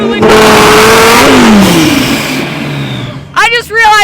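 A Lamborghini Gallardo Super engine revs loudly and close by, its tone climbing and falling, then ending in a sharp, pulsing burst of exhaust blips.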